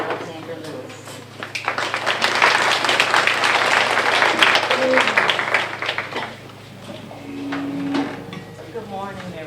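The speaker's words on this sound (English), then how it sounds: "she needs to be shown a round of applause" Audience applause at a parent forum, a roomful of clapping that swells and holds for several seconds before fading, with some voices and a low steady hum underneath.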